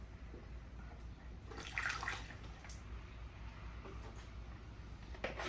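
Coolant glugs and splashes steadily into a Yamaha Raptor 700 ATV radiator at close range, with a brief louder gush midway and a quiet, continuous trickle throughout.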